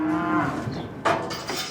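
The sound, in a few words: cattle mooing at a livestock border crossing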